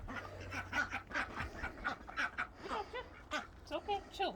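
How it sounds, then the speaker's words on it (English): Ducks being herded by hand give repeated nasal quacks in an uneven rhythm, several calls overlapping at close range. "Dang ducks."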